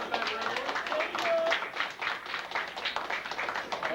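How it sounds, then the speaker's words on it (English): Audience round of applause at a university video game production class's final demos, a dense patter of hand claps lasting the whole stretch with some voices mixed in. "nice round of applause"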